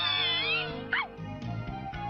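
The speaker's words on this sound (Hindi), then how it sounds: "शीरो ने इस बिल्ली को बचाया है।" A cat meows loudly and close in a brief rising-falling cry, set against background music in a cartoon scene.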